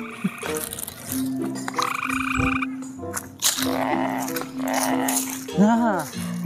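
Loud frog croaks repeating nearby, low throaty calls in bursts, with talking and other outdoor noises mixed in.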